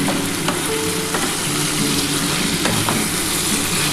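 Potatoes for Bengali aloo posto fry in a covered pan, giving a steady, dense sizzle with occasional scraping stirs and faint clinks, close and continuous throughout with no talking.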